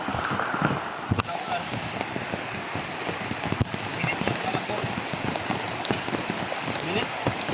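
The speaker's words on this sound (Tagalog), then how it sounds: "may napakalakas ng ulan." Heavy rain pours down hard and steadily, a dense close patter of drops on surfaces with gusts of wind buffeting the microphone throughout.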